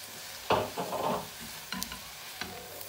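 Swiss chard, thick stems first, tossed into a hot pan and stirred, giving a few soft sizzling bursts and scraping stirs at close range with quiet gaps between them.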